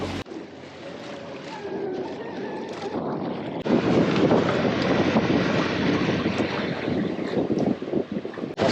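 A sailboat crossing from Sicily to Sardinia runs under sail, with strong, steady wind rushing across the microphone and water washing along the hull, growing louder partway through.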